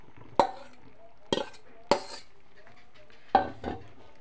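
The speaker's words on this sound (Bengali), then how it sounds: "এখন আমি ভালোভাবে মিশিয়ে নেব।" Paneer coated in spice paste is mixed in a metal pot, with four sharp clinks of a spoon against the pot spaced irregularly, close and fairly quiet between strikes.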